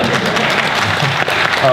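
Panel audience at PAX West 2015 clapping, a brief, steady patter of applause running under someone talking, with a brief tonal sound at the end.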